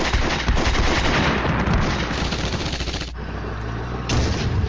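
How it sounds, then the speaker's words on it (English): Intense gunfire and explosions in a war strategy game as enemy counter-battery artillery strikes self-propelled mortar units, a loud, dense barrage of rapid shots that thins briefly before surging again. "Counter battery hits the mortars again."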